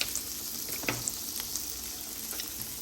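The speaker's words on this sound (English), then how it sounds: "I'm gonna go ahead and throw the eggs in this pan." Eggs frying in a pan on a home stove, a steady close sizzle with faint scattered crackles and a couple of soft utensil taps, no voices.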